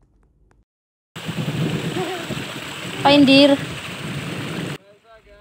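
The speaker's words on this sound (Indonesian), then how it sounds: "kami diterpa badai yang sangat ekstrim di tengah perjalanan dan sangat menghambat pengambilan gambar" An extreme storm on Mount Salak, heavy rain hissing and pattering steadily for several seconds, recorded close, with a brief loud voice cutting through partway and near-silence before and after.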